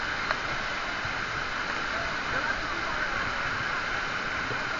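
A waterfall roars in a steady, unbroken rush of white noise, close and fairly loud, with no clear talking over it.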